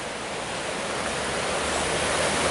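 Empire Creek after a rain, running high and rushing in a steady, loud broadband roar of flowing water, close and unbroken, with no voices.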